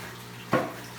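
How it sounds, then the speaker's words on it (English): Water poured slowly from a bucket into a net while moving cichlid fry, heard as a brief splash and trickle about halfway through, standing alone over a steady low background hum. "we're gonna go and slowly pour the water from the bucket"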